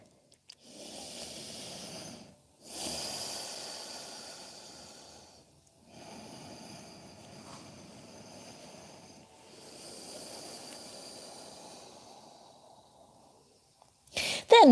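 Slow, deep breaths during a yoga session, several long airy inhales and exhales each lasting a few seconds, separated by short pauses, close and clear, ending with a brief sharp noise.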